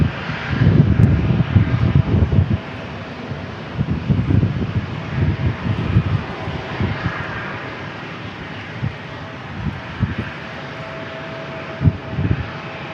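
A Delta Airlines Airbus A321 jet at San Diego International Airport gives a fluctuating engine rumble against gusty wind noise on the microphone, surging at the start and in uneven bursts after.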